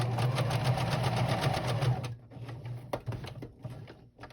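A sewing machine stitches appliqué in a quick, steady mechanical whir for about two seconds, then stops, leaving scattered soft clicks and handling noises close by.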